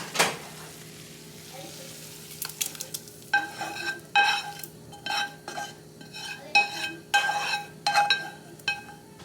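Spiced dal, seasoned with turmeric, paprika and garam masala, cooks in a pan on a home stove, with repeated stirring scrapes and clinks of a utensil against the pan over a soft sizzle, fairly close.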